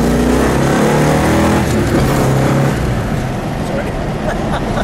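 A 1971 Dodge Charger Super Bee with a 426 Hemi engine accelerates hard, its loud, steady engine roar filling the cabin throughout, with voices talking underneath.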